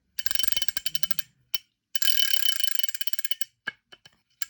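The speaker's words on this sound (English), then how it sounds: "Let's flip the anti-reverse back on." Rapid, close clicking of the anti-reverse ratchet on a Daiwa 7000C fishing reel, heard in two fast bursts of handle turns and then a few scattered single clicks.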